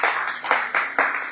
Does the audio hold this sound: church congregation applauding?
yes